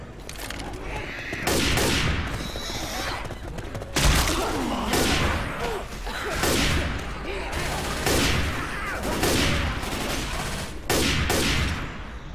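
Gunfire in the video game Left 4 Dead 2, loud repeated bursts of shots and rapid automatic fire in clustered volleys, with players talking between and over them.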